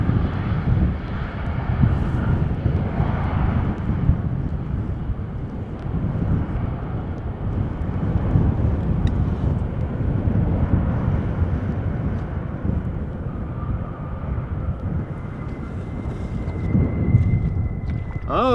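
Airliners on crosswind approach and landing at Amsterdam Schiphol Airport after a storm, heard as a continuous rumbling jet roar mixed with gusting wind noise on the microphone at a distance.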